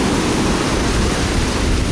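Ocean surf on a Cuban beach, a loud, steady broadband wash of breaking waves close by, with no speech.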